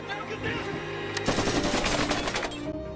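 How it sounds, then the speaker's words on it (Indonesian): Machine gun fire from a remote-controlled robot in an action film scene shoots up a car, a dense rattling burst of rapid shots building to a loud, sustained barrage over a film score, with a narrator speaking throughout. "mobil yang dinaiki Jonas malah dihujani peluru oleh robot tersebut"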